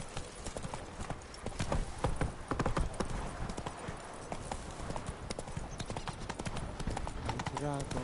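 Hooves of the horse Roach clip-clopping in a brisk trot in The Witcher 3, a steady close rhythm of sharp hoof strikes running throughout, with a voice speaking over it.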